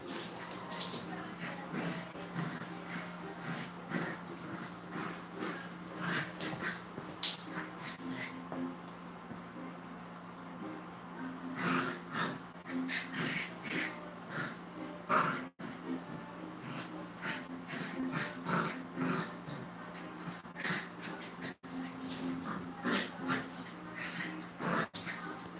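Two dogs play-fighting, with a steady run of snorts, huffs, whimpers and short growly yelps that rise and fall over nearly half a minute, close by, and occasional human voices in the background.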